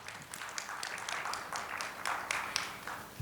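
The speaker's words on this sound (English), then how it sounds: "A huge round of applause for Dr." Faint audience applause for a panel speaker at a Hindustan Times women's leadership event, scattered claps rising and falling at a distance beneath low background murmur.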